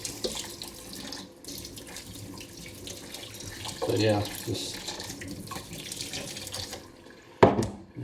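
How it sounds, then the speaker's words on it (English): Water runs steadily from a tap into a sink while warped resin parts are fixed, a continuous close hiss and splash that swells briefly midway, with a person talking over it. "I'll put this inside the sink upside down so it'll actually hold the water in it like a trough."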